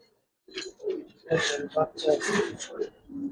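A red Musaldom pigeon coos up close in a string of throaty, rolling phrases, loud and continuous for a few seconds after a brief silence.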